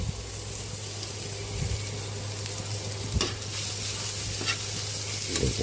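Garlic and onion sauté in butter in a pan, giving a steady sizzle under repeated stirring and scraping, with a low constant hum in the background and no one speaking.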